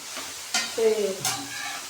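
Soya chunks sizzle steadily in a hot pan, with a couple of brief stirring scrapes; no voices.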